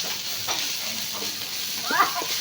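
Rat meat stir-fries with chili and holy basil in a hot pan, giving a short stretch of steady sizzling and stirring, with a brief voice near the end.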